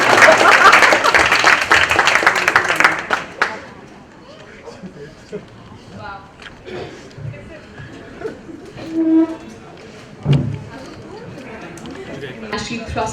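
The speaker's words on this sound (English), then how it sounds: "Everyone clap for Ekta." Audience at a book launch breaks into loud, dense clapping that lasts a few seconds then fades, giving way to scattered murmurs, chatter and a few stray claps.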